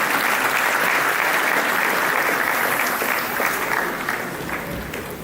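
At a university matriculation ceremony, a large crowd gives the Vice Chancellor loud, sustained applause that holds steady for several seconds and then gradually fades near the end.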